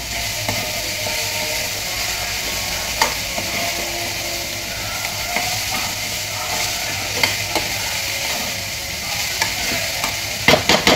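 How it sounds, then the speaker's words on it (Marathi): Onion and tomato frying in a little oil in a pan, a steady loud sizzle running throughout with occasional stirring clinks and scrapes, no voices. "मी भेंडी भाजताना तेल घातलं होतं, त्यामुळे थोडंसं तेलामध्ये पण कांदा टोमॅटो भाजून घेतले."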